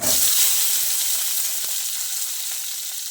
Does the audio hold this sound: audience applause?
no